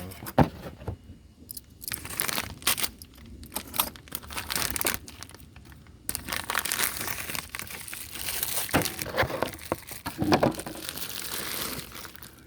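Plastic packaging for a Toyota VVTI solenoid is cut and torn open by hand, with irregular crinkling, rustling and snipping bursts, close and fairly quiet.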